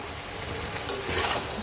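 Sweet gourd shoots sautéing in a pan, a steady close sizzle with scraping stir noises and a slight swell toward the end, no talking.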